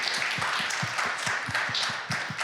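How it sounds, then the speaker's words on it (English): A room full of people at a Delaware County community coffee event applauds steadily, a dense, even wash of clapping at moderate distance with no talking over it. "Let's give one more round of applause for all three of them"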